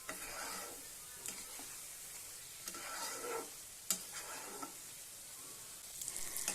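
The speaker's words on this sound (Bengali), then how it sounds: "এবার পোস্তর সাথে সমস্ত কিছু ভালোভাবে নাড়াচাড়া করে 2 মিনিটের মতো কষিয়ে নেব" Poppy seed paste with prawns being stirred and fried in a pan, a soft continuous sizzle broken by repeated scraping strokes and clinks of the spatula, close and fairly quiet with no talk.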